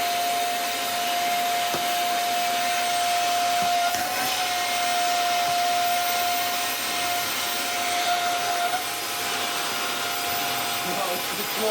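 A Klarpul KL-001 vacuum cleaner with a short cable runs steadily, a loud continuous whine with a constant tone holding for the whole stretch and no talk over it.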